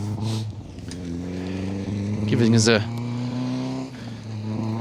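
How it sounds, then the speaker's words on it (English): Vauxhall Nova rally car with a high-revving engine at a rally event, a steady buzzing engine drone that climbs briefly in pitch, running under continuous commentator speech. "high revving little Nova"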